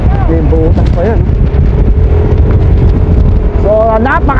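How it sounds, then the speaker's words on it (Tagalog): Strong wind roars into the microphone during an outdoor mountain bike race in Natividad, Pangasinan, a loud constant rush beneath someone talking throughout. "So napakalakas ng hangin."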